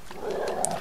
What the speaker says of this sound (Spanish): Ah, aquel perro.